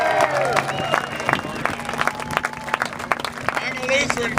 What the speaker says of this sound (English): Let's give him a round of applause, guys.